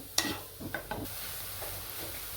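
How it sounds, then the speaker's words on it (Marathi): Grated Indian gooseberry (amla) being sautéed dry in a pan with no oil or ghee gives a soft, steady sizzle with a few brief stirring scrapes near the start, close and fairly quiet, with no talking. "2 वाटे आवळ्याचं किस टाकून घेतलं आपण, थोडंसं परतून घेऊ याला"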